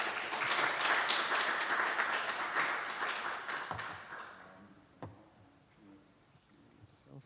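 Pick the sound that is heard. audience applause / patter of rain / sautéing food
audience applause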